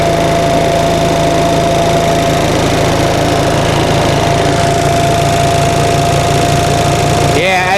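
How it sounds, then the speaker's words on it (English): A 1945 Onan generator's engine runs loud and steady with a constant hum and rattling, building slowly in speed until a sharp change at the very end. "you can hear the engine RPM is slowly increasing."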